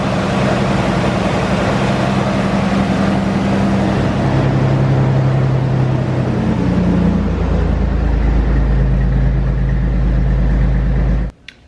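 A 1998 Ford Ranger engine idles steadily with a freshly installed alternator, a loud continuous low rumble and hum running alone for about eleven seconds before cutting off abruptly.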